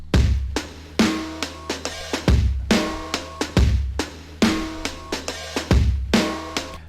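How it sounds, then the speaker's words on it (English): An old, dusty, dark trip-hop drum beat loops steadily, with heavy booming kicks and crisp snare hits in a slow, repeating groove, loud and alone. "how to make some old, crusty, dusty, busty drums"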